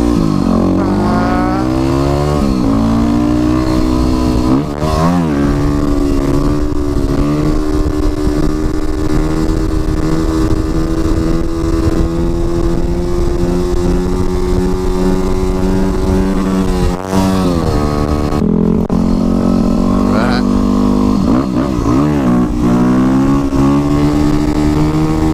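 A Yamaha WR250R supermoto motorcycle ridden through wheelies, its engine droning loudly and steadily with rising and falling revs and brief throttle changes, close by and continuous.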